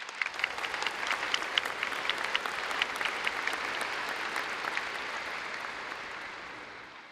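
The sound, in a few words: audience applause at graduation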